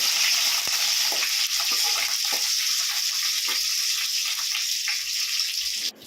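Chopped coriander and green chillies sizzle steadily in a hot pan while being stirred for a mutton bone soup, with a continuous hiss broken by soft scraping clicks from the stirring. A sharp knock sounds near the end.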